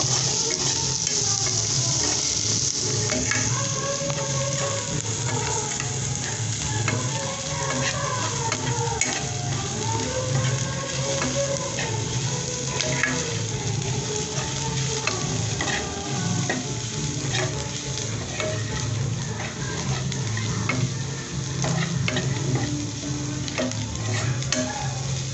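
Constant sizzling of onion and garlic frying in a pan for a Sri Lankan village-style meal, with occasional stirring scrapes and light utensil clinks, close and steady.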